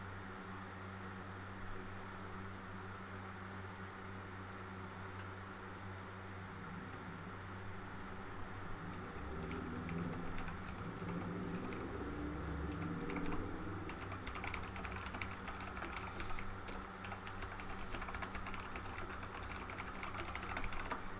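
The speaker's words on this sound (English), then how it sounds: "Listen to my great keyboard." Steady typing on a computer keyboard during a Bionic Commando gaming session, continuous close clatter over a constant hum of fans and background noise.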